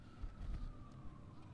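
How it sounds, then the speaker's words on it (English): An emergency siren drifts in from far off while people sit on a boat at sunset, a faint, thin wail holding a near-steady pitch under low rumbling background noise. "Nothing like a nice siren in the background for a beautiful sunset"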